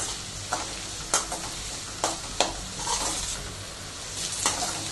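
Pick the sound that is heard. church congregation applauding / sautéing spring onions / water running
sautéing spring onions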